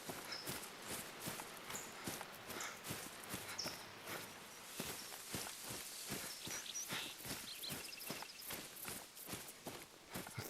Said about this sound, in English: I heard the footsteps, the running